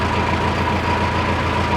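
A 2023 Mahindra Novo 605DI tractor with a CRDI engine runs at a steady idle, a constant low diesel rumble with a faint whine, close and unbroken.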